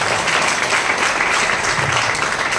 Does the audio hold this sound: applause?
yes